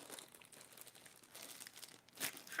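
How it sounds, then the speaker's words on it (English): Quiet, close crinkling and rustling of packaging, with a sharper tearing sound near the end. "I'm going to try to get into this package I've got here."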